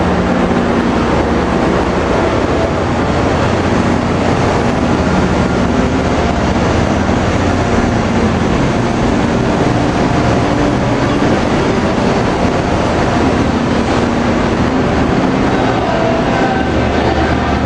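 Generator unit engine 406 of a railroad locomotive runs at a railfest, heard close up as a loud, steady, dense rumble with rattling, clattering rail-car sounds throughout and no talking.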